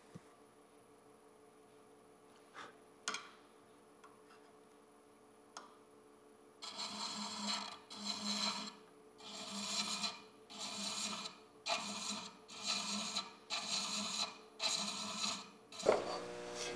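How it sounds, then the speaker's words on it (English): A hand thread chaser cuts a female thread inside a boxwood lid, giving about six steady, rhythmic rasping strokes, close and fairly loud, after a quieter stretch with a few scattered clicks. "As I continue to chase my female thread, my goal is to have my thread chaser at 90 degrees to the threads."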